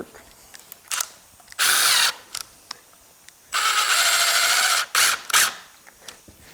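Power drill driving screws into wood of a chicken coop, in two loud sustained whirring bursts with short trigger blips between, nearby and alone.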